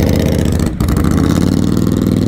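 A motorcycle fitted with its stock exhaust runs loud and close, a steady throaty engine drone with a brief dip before carrying on evenly, no voices over it.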